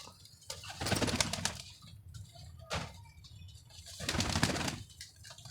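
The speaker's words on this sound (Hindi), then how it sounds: "ये आप देख लें कबूतर" Pigeons kept by a hobbyist coo softly nearby, with low throaty calls and brief bursts of wing flapping rising and fading in a quiet setting.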